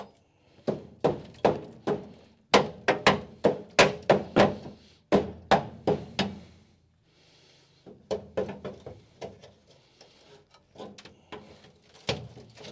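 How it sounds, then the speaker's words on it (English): Old Bondo filler being knocked and scraped out of a car's quarter panel: sharp metallic knocks in quick bursts, a pause with faint scraping, then more irregular knocks, close and fairly loud. "I'm just trying to get this last bit of Bondo infestation out of here"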